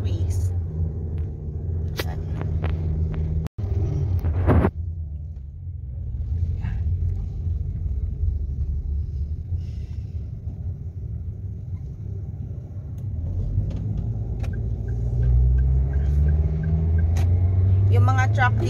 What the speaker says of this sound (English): Yung mga truck dito, hirap silang tumaas kasi pataas siya.